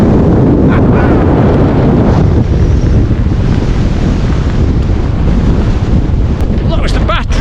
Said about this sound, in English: It was just too windy and too cold up there to stop